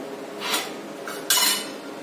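A lid goes onto a pot of semolina soaking in milk, making two brief metallic clinks close by, the second sharper and louder, in an otherwise quiet kitchen.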